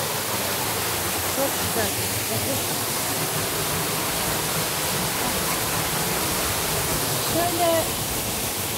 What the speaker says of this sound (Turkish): Biraz bu şelalenin sesini hep beraber dinleyelim